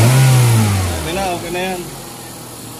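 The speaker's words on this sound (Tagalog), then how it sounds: "Ayan na, tahimik na yung andar niya. Wala na siyang palyo." Honda L13 car engine after a misfire repair, heard close up: a loud rev that drops back to a smooth, steady idle, with someone speaking briefly over it.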